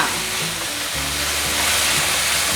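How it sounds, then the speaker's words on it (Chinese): Vegan stir-fry seasoned with turmeric and Himalayan black salt being tossed in a hot pan, a steady hiss of sizzling oil with a soft scrape of stirring partway through, close and continuous with no talking. "快速的翻炒"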